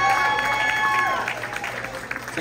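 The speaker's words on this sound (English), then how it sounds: "give him, give him a hand of applause" An audience at a conjunto band show at Eagles Hall in Melrose Park claps and cheers in a short burst that fades quickly, with tonal music or voice sounds mixed in.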